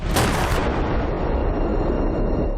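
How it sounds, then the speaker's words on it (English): A single loud, booming gunshot in a film rings out at the start, followed by a long, rumbling echo that slowly fades. "The sound of the gunshot is heard by the group of policemen"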